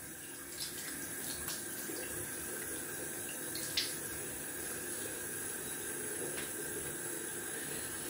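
Cold water runs steadily from a tap at a barbershop sink as the face is wetted, a continuous hiss with a few faint splashes and clicks, no talking.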